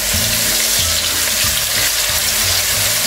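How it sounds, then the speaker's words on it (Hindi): A ginger, garlic and green chili paste fries in a pan, a loud, steady close sizzle with rhythmic scraping of a spoon stirring it about every half second, and no talk. "जिंजर गार्लिक ग्रीन चिली की पेस्ट को मैंने 3 से 4 मिनट तक अच्छे से भून लिया है"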